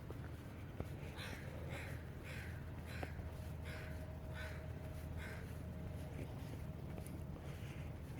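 Several crows caw in a regular series of harsh calls at moderate distance, outdoors with steady wind noise underneath.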